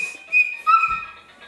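A girl whistling a few short, thin tones close up, wavering in pitch with brief gaps between them, with a soft bump of handling noise partway through.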